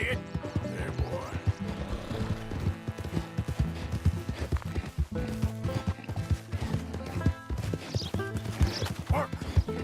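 A donkey's hooves clip-clop steadily and loudly in Red Dead Redemption 2, a continuous close walking rhythm over game music and ambience, with a brief whinny-like call mixed in.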